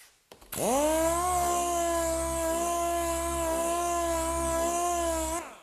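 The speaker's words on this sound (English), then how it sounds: "use the sander just as if you would like your block sander" An electric sander works a car hood during dent repair, a steady close whine that starts abruptly, holds an even pitch for several seconds, then cuts off.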